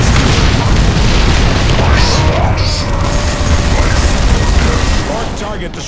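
A Dreadnought fires back in the video game Dawn of War 2 with loud, continuous booming and heavy battle noise, and game voices sound over the din.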